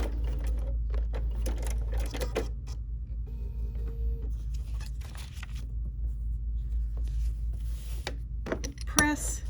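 A sewing machine runs steadily while stitching down a quilt block piece, a low continuous mechanical hum with light rattling, close by, with brief knocks and handling noise near the end.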